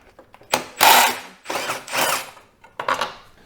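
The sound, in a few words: ratchet removing 10 mm bolts from bumper brackets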